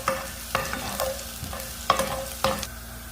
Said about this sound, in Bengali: পেঁয়াজ আর জিরা মোটামুটি বাজা হয়ে গেছে